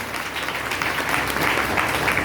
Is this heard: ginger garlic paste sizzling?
no